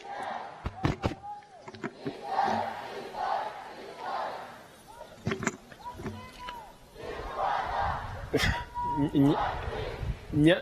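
A crowd at the Kwita Izina gorilla naming ceremony in Rwanda claps and cheers loudly, with sharp claps and shouted voices swelling in waves.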